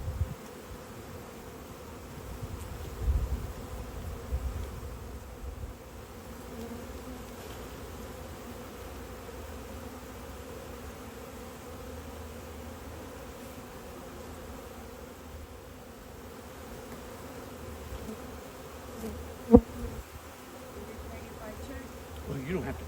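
A low, continuous buzzing of an early-morning honeybee swarm, fairly quiet and steady, with occasional rustling and a few louder bumps.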